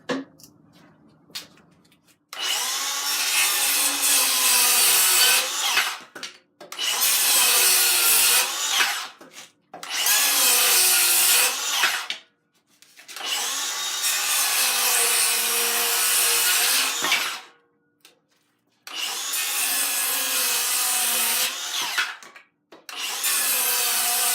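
Milwaukee M18 Fuel 7 1/4 inch cordless circular saw cutting through wood, six loud close whining cuts of several seconds each, separated by brief quiet gaps as the motor winds down.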